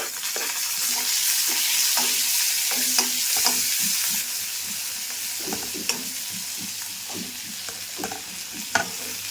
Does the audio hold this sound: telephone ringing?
no